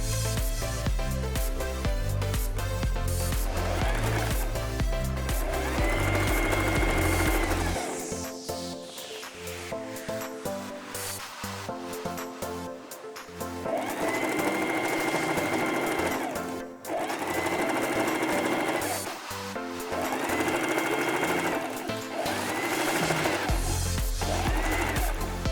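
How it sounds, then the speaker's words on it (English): Sewing machine running a back stitch on folded fabric hem, steady fast mechanical whirring in several long runs separated by brief stops, close and clear, with background music underneath. "always remember to start off with a back stitch"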